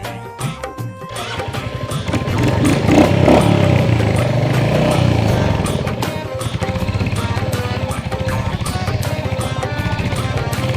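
A motorcycle engine runs steadily close by, with a louder revving swell early on before settling into a continuous rumbling drone.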